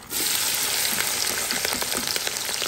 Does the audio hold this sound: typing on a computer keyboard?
no